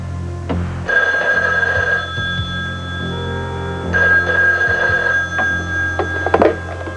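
A telephone rings in two long electronic bursts separated by a pause, loud and close, with no talk over it.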